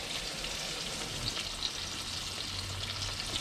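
Whole crappie fish frying in hot oil for a Thai fried fish dish, a steady, loud, close sizzle with crackling spatters throughout and no talking.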